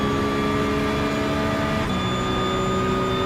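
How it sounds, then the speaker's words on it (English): Race car engine with a whistle in the iRacing simulator, a steady high-pitched whine and whistle above a constant engine drone, with a slight pitch change partway through. "the sound is really good on this car"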